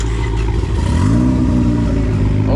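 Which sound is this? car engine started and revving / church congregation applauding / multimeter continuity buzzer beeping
car engine started and revving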